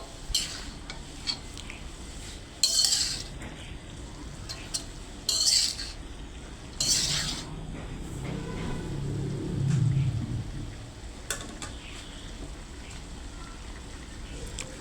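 A winter vegetable bhaji is stirred in a pan after the lid comes off, with soft scraping and low sizzling broken by a few sharp utensil clinks against the pan.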